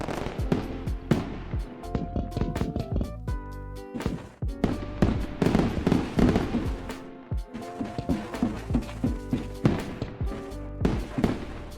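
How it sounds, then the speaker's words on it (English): A long run of fireworks bursting in rapid, irregular succession, sharp loud cracks and booms overlapping and stacking into dense volleys, with scattered single pops between. "That's a lot of fireworks."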